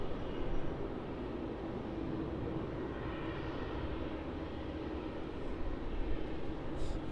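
A Qantas Boeing 737 arriving at Melbourne Airport gives a faint, distant, steady engine rumble and roar, with no voices.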